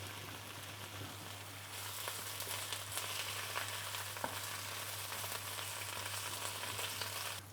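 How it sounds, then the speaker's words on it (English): Wild boar burger patties simmer in braising liquid with a touch of butter and salt in a pan, giving a steady close sizzle and bubbling hiss that swells slightly after the opening seconds, with no talking. "Just keep moving my burger patties around in that braising liquid."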